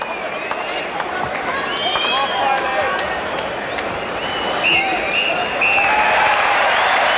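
Crowd applause and cheering at Goodison Park during a 1986-87 Everton home football match against Southampton, a steady broad roar of clapping throughout, with a commentator talking over it.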